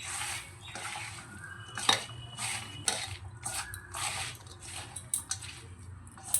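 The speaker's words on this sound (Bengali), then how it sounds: "খুব ভালো করে সমস্ত কিছু একসঙ্গে মাখিয়ে নেব" Small fish are worked together with spices by hand in a bowl, making irregular wet squishes and repeated clinks and scrapes against the bowl, close up and steady with no talk.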